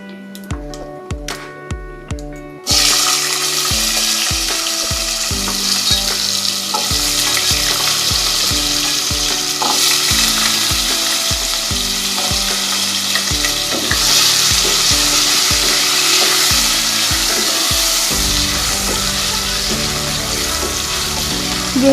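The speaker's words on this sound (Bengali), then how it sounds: "কিছুক্ষণ আলুটাকে আমি ভেজে নেব।" Cubed potatoes fry in hot oil with cumin seeds, a steady loud sizzle that starts abruptly after a few quiet seconds and carries on continuously, with scraping stirs and clinks of a utensil through the pan.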